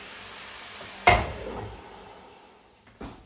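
Cloves go into a Sri Lankan style mutton curry pot, then a lid closes with a sharp clatter that rings briefly. A second softer knock follows about two seconds later in a quiet kitchen.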